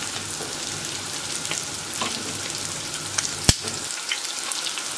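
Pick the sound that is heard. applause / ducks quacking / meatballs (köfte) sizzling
meatballs (köfte) sizzling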